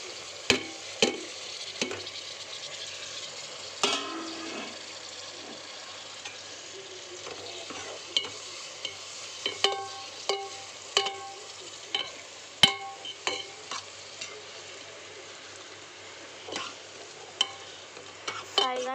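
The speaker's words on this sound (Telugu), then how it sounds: "ఇప్పుడైతే మనం టమాటాలు వేసుకుందాం." Tomatoes frying in a pan for spicy egg curry, a quiet background sizzle broken by repeated sharp spoon scrapes and clinks against the pan at an uneven pace, close up, no voices.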